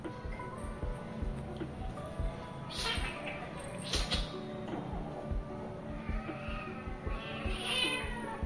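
Mother cat meowing near two kittens indoors, several short, moderately close meows scattered over steady background noise, with faint human voices underneath.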